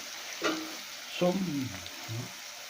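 Ginger and garlic frying in a pan for a country chicken curry, a soft crackling sizzle with a few brief louder bursts of spatter and stirring, fairly faint and close.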